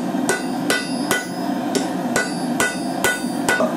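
Hot steel is hammered on an anvil while forging tongs, sharp ringing blows landing about every half second, eight strikes in a steady rhythm, close and clear with no talking.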